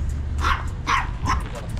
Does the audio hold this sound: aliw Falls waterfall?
no